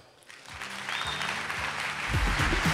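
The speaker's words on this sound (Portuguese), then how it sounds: "Palmas para o Welton." A modest round of clapping rises after a talk at the OpenShift Commons Gathering Brasil 2024 tech conference, growing slightly louder toward the end over a low hum and faint rumble.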